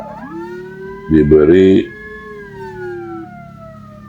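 An ambulance siren sounds amid jammed traffic, a sustained wailing tone slowly gliding in pitch, broken by a brief, louder blaring burst, while a person speaks nearby.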